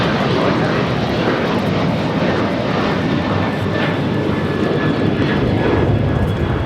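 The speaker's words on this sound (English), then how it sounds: "201 taking off to Seoul on the A380." An Asiana Airlines Airbus A380 takes off at LAX, its jet engines producing a loud, steady, broadband roar with a faint high whine throughout, close and continuous with no talk.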